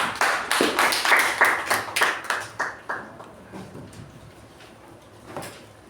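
A small Toastmasters meeting audience clapping to welcome the general evaluator, a sparse round of distinct hand claps in a steady rhythm that thins out and fades within a few seconds.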